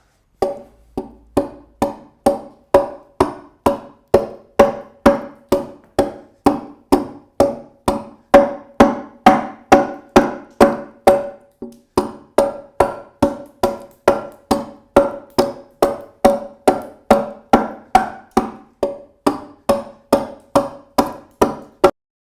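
An adze strikes a wooden chair seat being carved, landing sharp, evenly spaced chopping blows, roughly two per second, close and loud for over twenty seconds with a brief pause midway.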